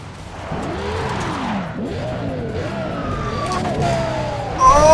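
Racing-game car in Need for Speed Undercover launching hard off a clutch drop, engine revving and rising in pitch, tires squealing briefly near the end, with a siren-like wail and someone talking over it throughout.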